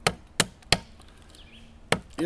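Chopping with a Joker Nomad 6.5 knife: sharp, loud blade strikes land close by, three in quick succession and then one more after a short pause, each with a crisp impact and brief ring.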